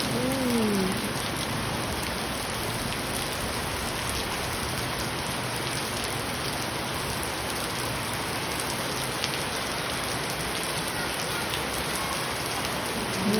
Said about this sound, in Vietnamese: Mưa to lắm bà con ơi, ngập lụt bà con ơi